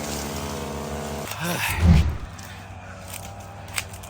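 A vehicle drives off through a burned sugarcane field, its engine a steady low rumble that swells briefly, then settles into a rougher rolling drone with scattered crunches, near and fairly loud, with some talk mixed in.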